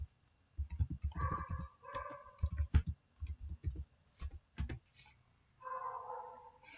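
Someone typing a Terraform destroy command on a computer keyboard, bursts of close, crisp key clicks in uneven rhythm with short pauses between runs of keystrokes.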